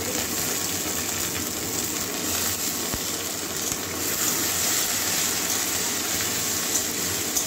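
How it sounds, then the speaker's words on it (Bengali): Grated onion frying in hot oil with cardamom, cloves and cinnamon for a paneer and soybean curry, a dense, steady hiss and sizzle that stays loud and even with occasional soft crackles. "এবারে গ্রেট করা পেঁয়াজটাও দিয়ে দিচ্ছি।"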